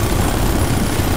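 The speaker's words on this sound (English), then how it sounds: "Shield chopper inbound!" A military helicopter in the video game Ghost Recon Future Soldier gives a loud, dense, continuous rotor and engine roar, filling the short clip with no talking.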